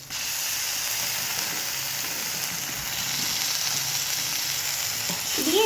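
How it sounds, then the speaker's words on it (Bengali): Spice masala with Kashmiri chilli and tomato paste frying in a pan for a prawn curry, a loud steady sizzle and hiss close by, with light stirring and a faint voice at the very end. "দিয়ে এবার এই মশলাটাকে ভালো করে কষাবো।"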